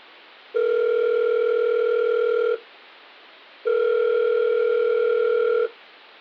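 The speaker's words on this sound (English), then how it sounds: "I dialed the number. After a few rings, a familiar voice picked up." Two long electronic telephone ring tones, each about two seconds, separated by a pause, steady and clear with no voices.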